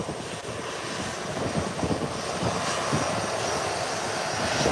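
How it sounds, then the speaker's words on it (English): An ATR turboprop airliner takes off from Howard Hamilton International Airport, a broad building roar of propeller engines that grows slightly louder over a few seconds, heard from a distance. "here comes the takeoff of the ATR"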